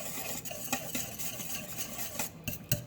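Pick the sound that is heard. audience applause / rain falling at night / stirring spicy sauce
stirring spicy sauce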